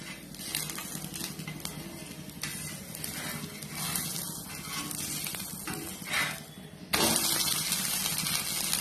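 Bottle gourd dosa cooks on a pan over a medium flame with a steady soft sizzle and crackle, fairly faint and close, growing a little louder toward the end, with no speech.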